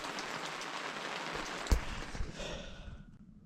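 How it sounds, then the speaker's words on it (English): Steady broadband hiss of rain falling while camping outdoors in the bush at Gundabooka National Park, continuous and fairly close, with a brief sharp tap partway through and the patter easing slightly toward the end. "hopefully it'll stop raining"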